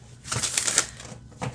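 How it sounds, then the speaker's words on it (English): A tarot card deck is shuffled by hand, giving quick papery riffles and flicks in a short close burst, with a brief pause and then another flutter of cards. "I'm probably not going to be able to shuffle this, but we'll try."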